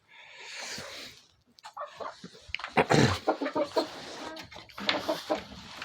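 Young laying hens cluck in a coop: a busy, irregular run of clucks and squawks from several birds at close range, with no talk.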